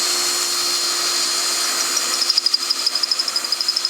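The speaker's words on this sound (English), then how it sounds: "keep your drill going" Power drill running continuously while building a chicken tractor foundation, a steady high whine with a pulsing, rhythmic chatter emerging halfway through as the bit works in and out.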